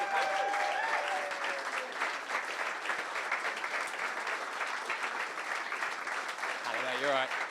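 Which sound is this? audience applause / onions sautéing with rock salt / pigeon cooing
audience applause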